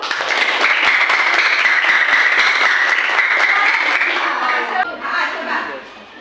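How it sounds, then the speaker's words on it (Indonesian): Students in a classroom clap together in a brisk, loud burst that holds steady and then thins out and fades near the end, with faint voices underneath. "Tepuk tangan dulu tuh, Ayu."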